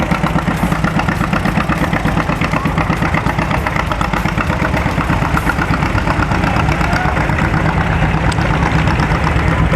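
A Farmall M tractor idles close and loud, its engine chugging with a rapid, steady, slightly knocking beat that never changes and has no voices over it.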